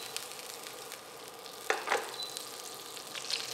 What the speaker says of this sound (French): mettez un peu de beurre dans votre poêle